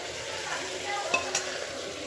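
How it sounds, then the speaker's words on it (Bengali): Sliced bitter gourd and potato fry in a pan over lowered heat, giving a soft continuous sizzle with a few quick stirring scrapes and light clinks of a utensil against the pan. "এখানে তো উচ্ছে আলু ভাজাটা কমিয়ে হচ্ছে, এই যে কমিয়ে দিয়েছি"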